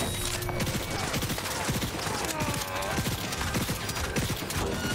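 A big gun fires in the video game Cyberpunk 2077 as a dense, continuous volley of rapid shots that stays loud and close for the whole stretch, with brief voice sounds under it.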